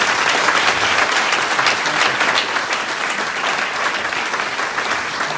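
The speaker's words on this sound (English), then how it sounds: "give all of the teachers another round of applause" An award-ceremony audience applauds the teachers, filling the room with dense, loud, sustained clapping that holds steady throughout and eases only slightly toward the end.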